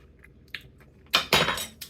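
Crunchy chewing of gazpacho close to the mic, a few wet bites and mouth sounds after a short quiet stretch, no talking.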